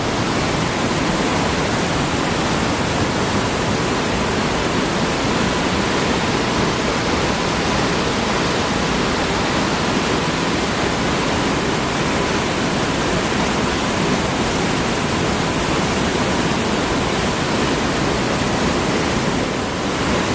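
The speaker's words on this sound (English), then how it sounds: "This is falls number 2. Powerful, although not very tall." Trümmelbach Falls, a powerful waterfall inside the mountain at Lauterbrunnen, Switzerland, roars in a loud, steady, unbroken rush that fills the whole stretch without pause.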